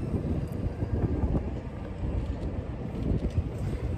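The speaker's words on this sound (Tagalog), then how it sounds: "Super hangin." Strong wind buffets the microphone in a steady low roar and rumble, with gusting surges and no clear voices over it.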